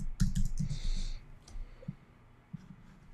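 A few quick clicks from a computer keyboard as someone types briefly, close and fairly quiet, followed by a couple of isolated taps.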